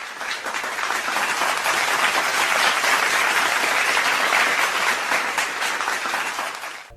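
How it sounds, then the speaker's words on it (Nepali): A crowd at a Nepali televised singing competition claps to welcome the judges. The loud, sustained applause swells and holds for several seconds, then eases off, with no talking. "अब हामी जजहरूलाई आसन ग्रहणको लागि हामी जोरदार तालीले स्वागत गर्न चाहन्छु"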